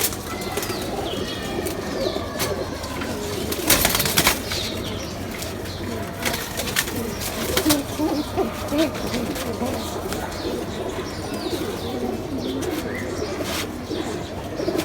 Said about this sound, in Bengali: এগুলো পাঙ্খি কবুতর এটা হলো পাঙ্খি হ্যাঁ বাংলাদেশি কবুতর